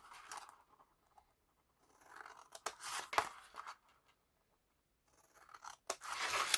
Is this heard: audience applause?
no